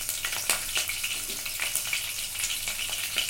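Mustard seeds and chopped green chillies frying in hot oil, a close, dense sizzle broken by sharp pops and crackles, with no voices.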